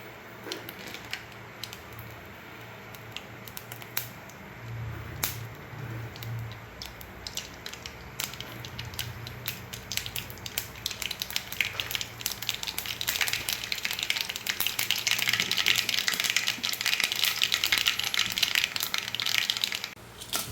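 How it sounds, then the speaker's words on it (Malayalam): Mustard seeds pop and crackle in hot coconut oil in a cheenachatti, a dense stream of sharp crackles that builds louder and busier over the final third, with no voices. "ഒരു ചീനച്ചട്ടിയിലേക്ക് അല്പം വെളിച്ചെണ്ണ ഒഴിച്ച് കടുക് പൊട്ടിച്ചെടുക്കാം"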